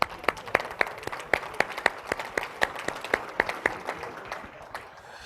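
Conference audience of Rotary members applauding, scattered distinct claps at a brisk rhythm that gradually thin out and fade, fairly close in an indoor room, with no talk.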